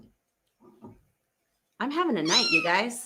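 A phone alert that mimics a cat's meow sounds loudly in the second half as a long, wavering, nasal meow-like cry, after someone speaks briefly and quietly.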